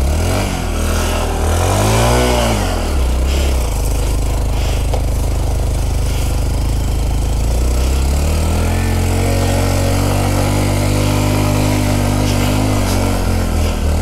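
A Honda Trail 125 motorcycle engine labors up a snowy hill, revving steadily and loud and close throughout, with rising and falling pitch as the throttle shifts and no talk over it.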